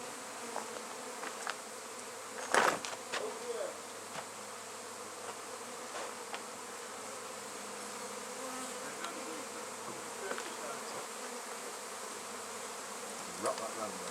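Honey bees swarming as comb is moved into a nuc box at an engine museum, a steady close buzzing drone with individual bees passing near the mic and a brief handling knock.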